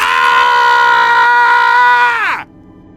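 A loud, sustained man's scream in a dark forest, used as a horror story effect, holding a strained tone for about two seconds before dropping sharply and cutting off into near silence.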